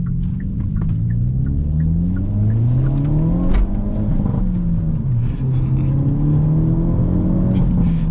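A Hyundai Elantra N pulls hard from inside the cabin, engine note climbing through the revs, dropping at a gear change and rising again, a loud close rumble with faint road noise underneath.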